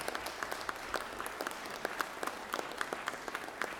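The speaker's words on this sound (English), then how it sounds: "Let's give them a big round of applause." Applause for Georgia Military Veterans Hall of Fame inductees in the Georgia Senate chamber, steady sustained clapping from a gathered crowd with sharp individual claps standing out, fairly distant, no voices over it.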